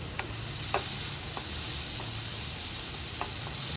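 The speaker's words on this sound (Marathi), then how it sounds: "आता आपण बटरमध्ये कॅप्सिकम टाकली आहे, तिला चांगली सॉटे करून द्यायची" Capsicum sautés in melted butter in a pan with a soft, continuous sizzle, broken by a few light scrapes and clicks from a stirring spoon. No voices are heard.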